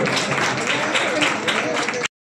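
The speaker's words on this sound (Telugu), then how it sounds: "మరొకసారి అందరము నక్కశీలకు గట్టిగా చప్పట్లు కొడతాం" Audience clapping at a pensioners' day gathering in Malakpet, a dense, steady burst of applause from a close crowd lasting about two seconds before cutting off abruptly.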